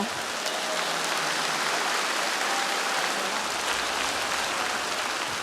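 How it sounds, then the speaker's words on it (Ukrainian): A concert audience applauds to welcome a singer on stage, a steady dense wash of clapping filling the whole stretch, loud and continuous without any break. "Ваші оплески!"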